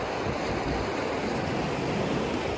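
Ocean waves wash up over a pile of tiny seashells at high tide, heard as a continuous surging roar of surf with some wind noise, steady and fairly loud with no voices.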